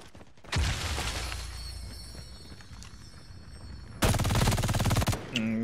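An MG42 machine gun firing in a video game match, loud sustained bursts of rapid automatic fire up close, a long stretch followed by a second dense burst, with no talk over it.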